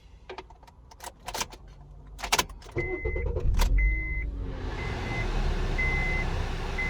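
Keys jangle and a few clicks sound, then a 2008 Honda Accord engine starts and settles into a steady idle with a repeating chime over it.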